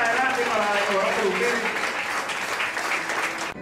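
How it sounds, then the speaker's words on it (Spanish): A church congregation applauds for the Lord during a prayer service: dense, steady clapping fills the whole stretch, with voices carrying over it throughout. "dar un fuerte aplauso al Señor"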